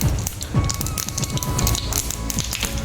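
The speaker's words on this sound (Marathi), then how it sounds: "मोहरी छान तडतडून द्यायची आहे." Mustard seeds are tempering in hot oil, making a dense run of quick, sharp pops and spatters over a busy sizzle, loud and close.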